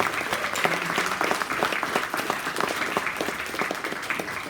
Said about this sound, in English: give a warm applause to the NFL Player Hall of Fame, Mr. Dwight Stevenson